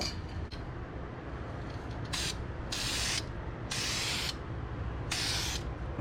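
Short bursts of spray paint hiss as Brembo brake calipers get a coat of blue VHT high-temperature paint, four separate passes about half a second each over quiet background noise.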